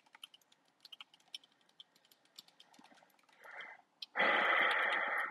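Quick bursts of typing on a computer keyboard, light close clicks in short irregular runs, followed by a louder rushing noise near the end.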